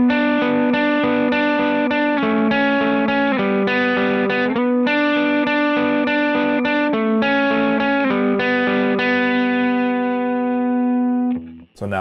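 Electric guitar run through a Lightspeed pedal stacked with a Lauren Audio Mustang GT pedal, playing sustained, driven chords and melodic lines with a thick, harmonically rich tone, loud and continuous before cutting off near the end.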